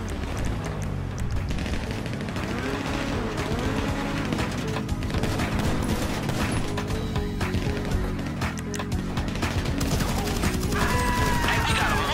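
Gunfire in the GTA Online studio mission, a dense, loud and continuous mix of shots and bursts under game music and effects.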